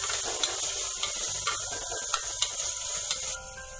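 Green chillies and crushed garlic fry in hot oil with a constant bright hiss and sizzle, dotted with small pops and light stirring ticks, close up and uninterrupted by speech.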